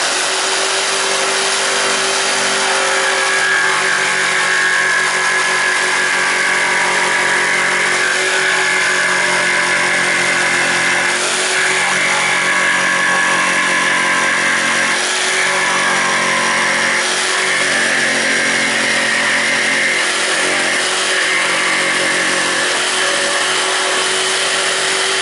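A jigsaw cuts a curved radius through a board for a homemade Segway clone. A continuous loud motor buzz with a strong tonal whine swells and dips slightly as the blade works along the line.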